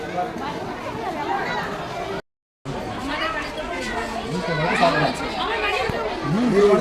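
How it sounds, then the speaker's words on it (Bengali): A dense crowd of visitors, many of them schoolchildren, chatters by the tiger enclosure at Alipore Zoo in Kolkata, a close, busy babble of overlapping voices broken by a brief dropout. "আর কোনো জায়গায় কিন্তু আমি এরকম ভিড় দেখিনি, বাঘের কাছে যতটা ভিড়"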